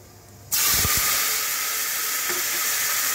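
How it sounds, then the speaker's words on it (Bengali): A tomato drops into a hot pan for khichuri and sets off a sudden, loud, close sizzle that hisses on steadily after a few faint clatters. "এবার দেখুন টমেটোটাকে দিয়ে দিচ্ছি"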